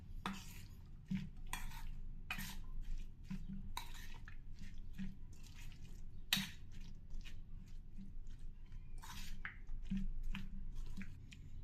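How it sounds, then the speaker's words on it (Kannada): Vegetables being stirred and mixed in a bowl for a vegetable dum biryani marinade, with wet squishing and sharp spoon clinks against the dish recurring every second or so, close and clear. "ನೀಟಾಗೆಲ್ಲನೂ ಸ್ವಲ್ಪ ಚೆನ್ನಾಗಿ ಮಿಕ್ಸ್ ಮಾಡ್ತೀನಿ"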